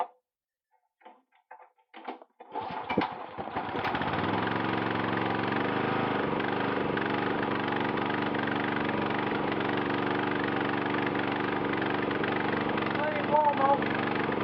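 A Honda GX240 generator engine with a poor-starting fault is pulled over a few tries, catches around four seconds in and settles into a loud, steady running drone close by that holds to the end.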